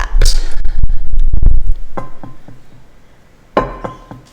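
A glass baking tray is set down and shifted on a kitchen counter, a series of sharp clinks and knocks, then a quieter pause before another hard clack near the end.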